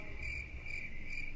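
Steady, high cricket chirping in regular pulses, moderately close and alone, with no voices.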